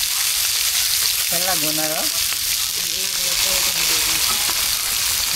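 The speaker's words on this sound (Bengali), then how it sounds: "এখন তেলে ভাজুন সুন্দর করে" Bottle gourd frying in hot oil gives a steady, dense sizzle throughout, with a voice speaking briefly over it near the middle.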